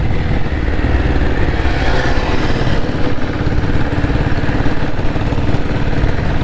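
A 1997 company diesel Bullet motorcycle engine runs loud and close, a dense steady rumbling thump with no break in the sound.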